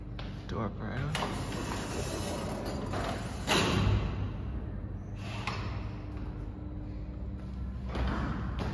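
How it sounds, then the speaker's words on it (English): Vintage Otis traction lift door operator in a Sydney office building, running with a steady mechanical rumble, a sliding rattle and a heavier thud near the middle, then more door movement later. "Door operator."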